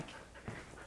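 A challenging dog walking on a leash pants in quick, soft, steady breaths, close by and fairly faint, with light movement noise and no talking.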